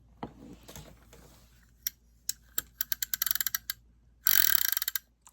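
Ratchet on a Penn 650ss spinning fishing reel clicks, starting with scattered single clicks and building to quick bursts of sharp, close mechanical ticks, with a louder rapid run near the end.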